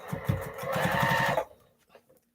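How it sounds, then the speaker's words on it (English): A sewing machine stitches fabric for a baby cape in a steady, fast whirring run of about a second and a half, then stops, leaving a few faint handling sounds. "I sew a little bit and make sure I have one stacked on top of the other one"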